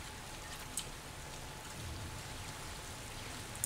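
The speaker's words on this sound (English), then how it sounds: "the hazard on this map is this acid rain that will eat away at your shields" Acid rain falling on a map in Mass Effect 3 multiplayer, a faint steady patter of rain with a couple of sharper drop ticks, no talk.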